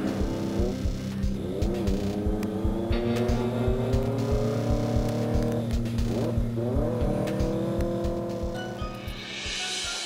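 A car engine drones and revs steadily, rising in pitch as it accelerates and pulls away, loud and close with no talk over it.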